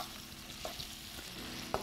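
Food sizzles in a pan after soy sauce and black pepper go in, stirred with a few distinct scrapes and a sharp clink near the end over a steady hiss, close up with no talking.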